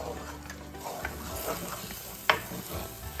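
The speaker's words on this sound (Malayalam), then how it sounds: "അത് കഴിഞ്ഞ് അതൊന്ന് അങ്ങോട്ട് വഴറ്റാം." Masala paste sautés in coconut oil in a clay pot, giving a close, soft sizzle under stirring scrapes, with one sharp clink of a utensil.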